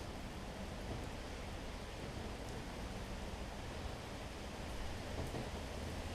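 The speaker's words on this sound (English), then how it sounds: "It's raining outside." Steady rain falls outside as a dense, even hiss that holds at the same level throughout, with no voices and no distinct drops or thunder standing out.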